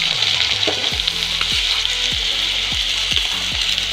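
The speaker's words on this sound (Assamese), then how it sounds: "এইখিনিতে অলপ টাইম ভাজি লওঁ" Soybean chunks and potato frying in ghee in a pan, a loud continuous sizzle with repeated stirring scrapes at a regular rhythm, no talking.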